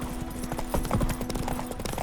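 A horse gallops in The Witcher 3: Wild Hunt, with rapid, evenly rhythmic hoofbeats that sound close and steady throughout, alongside a faint background tone.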